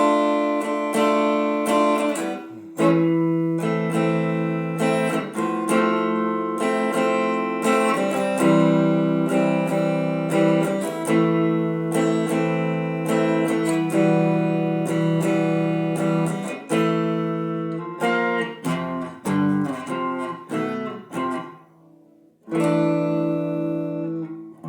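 Sustained chords of the keyboard part, strummed on guitar and held at length in a steady, loud sequence of chord changes with brief breaks, played alone with no talking.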